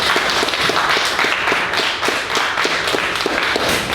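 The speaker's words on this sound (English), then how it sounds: "so a round of applause for her." Audience clapping after an introduction at a theater company's launch night, a modest group of hands with distinct individual claps in a quick, steady rhythm, fairly close and continuous.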